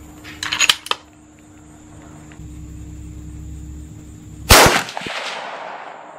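.243 Winchester rifle fired at a steel plate 200 yards away outdoors: a single sharp, loud report, an earlier burst of crackling, and a steady low hum in the background.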